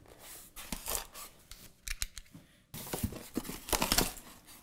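Packaging around an electric pressure cooker is cut open: close, quiet snips and rustles of cardboard or plastic in short irregular bursts.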